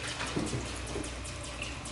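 Water runs steadily from a sink faucet with good pressure, a soft, even hiss and splash heard fairly faint and close, with no talking.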